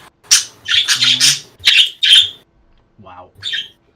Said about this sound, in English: Loud birds.